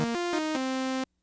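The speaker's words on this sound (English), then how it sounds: "So we've got the Korg MS2000. Here's the sound of the sawtooth." A bright, buzzy sawtooth wave from a Korg MS2000 synthesizer plays a few short stepping notes, then holds one before cutting off abruptly into silence.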